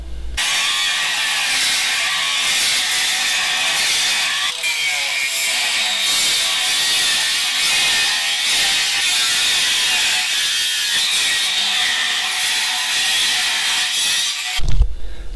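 A cutoff tool grinds through the flange of an old Camaro brake rotor in a loud, steady, high-pitched metal-on-metal whine that runs unbroken for about fifteen seconds before stopping abruptly.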